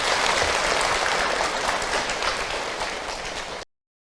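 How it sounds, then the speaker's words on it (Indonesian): An audience of women at an Islamic lecture by Ustaz Hilman claps in sustained, dense applause, loud and steady before cutting off abruptly. "Tepuk tangan buat Bunda semua yang hadir."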